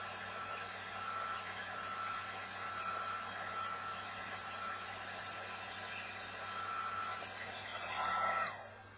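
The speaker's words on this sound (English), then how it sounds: "I'm trying to keep the heat more on this side of the decal here" A heat gun blows a steady, even hiss of hot air while heating a vinyl decal over compound curves, with a brief louder surge near the end before cutting off.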